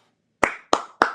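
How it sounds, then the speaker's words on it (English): Three sharp, close hand claps spaced evenly after a brief silence, each with a short decaying tail. "But I'm gonna edit some claps in right there."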